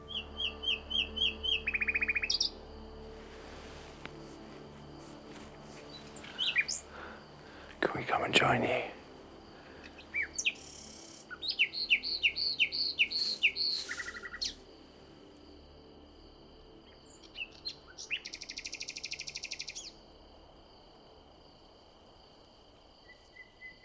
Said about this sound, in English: So I had been a listener to Nightingales all these years.